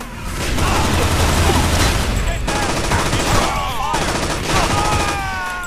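Bursts of rapid gunfire in the video game Infernal fired from a tower, loud, overlapping volleys that come in waves with brief lulls between them, with faint voices mixed in.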